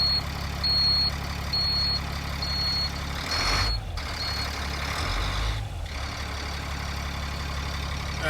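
A front-engine bus with 5,661 hours on it runs steadily at close range, its low engine rumble continuous while high reversing-style beeps chirp in the first seconds and two brief air hisses break through as pressure builds.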